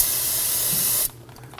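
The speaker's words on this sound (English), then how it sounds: "so you definitely want to use some spray solvent" A single loud, continuous hiss of brake cleaner solvent sprayed from an aerosol can during rear brake caliper replacement on a Toyota Camry, lasting about a second, then cutting off abruptly to near quiet.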